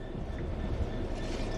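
A Class 66 diesel freight locomotive in the video game Train Sim World 3, on the Southeastern Highspeed route, gives a steady, close rail rumble with a low engine drone throughout.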